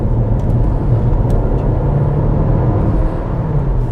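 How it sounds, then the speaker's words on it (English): Infiniti Q30 2-litre petrol engine at full throttle, a dense low rumbling induction roar heard steadily from inside the car. "You've got sort of an induction noise going on as your foot's planted to the floor."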